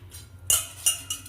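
Soaked rice is added to boiling milk in a pot for palpayasam, with three sharp metallic clinks of a spoon against the vessel over a faint low background and no speech.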